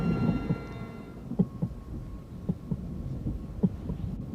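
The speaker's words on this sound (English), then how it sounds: "I hear a heartbeat." A heartbeat sound effect in a radio drama, set in a mad scientist's lab scene: steady, muffled low thumps in paired beats pulse throughout, over a dark rumbling backdrop with no speech.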